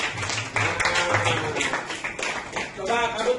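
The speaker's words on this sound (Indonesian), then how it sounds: "Tepuk tangan dulu dong." Students in an Indonesian classroom clap together at a teacher's prompt, a busy burst of hand claps running through the whole stretch, mixed with voices and chatter nearby.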